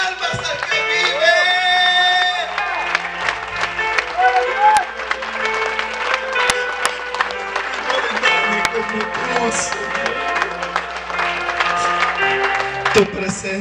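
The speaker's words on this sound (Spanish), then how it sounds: "Den una ofrenda de palmas al que vive." A church congregation claps hands steadily together while worship music plays and voices sing along in Spanish, the clapping dense and continuous throughout.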